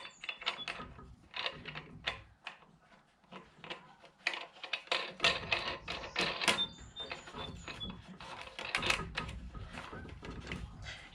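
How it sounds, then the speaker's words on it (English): A wing nut is tightened by hand onto a bolt with two washers on a solar oven's cooking tray handle, giving about ten seconds of close, irregular metallic clicks, scrapes and rattles with no talking. "it's just a matter of getting it tightened down with our wing nut"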